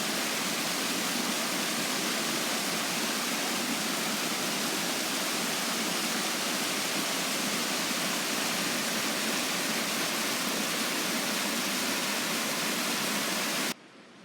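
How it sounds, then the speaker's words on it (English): A garden stream flows steadily and loudly nearby, a dense unbroken rush of water that fills the whole stretch without pause before cutting off abruptly at the very end. "Now, isn't this stream well known for otters, Catherine?"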